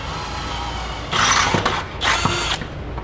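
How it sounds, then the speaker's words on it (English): A power drill bores a 3/8 inch hole under a 2013 Ford to mount an air compressor filter, giving two short loud whirring bursts close by, separated by a brief pause, over steady background hum. "Now we're going to take our 3/8 bit and put a hole right here in the bottom."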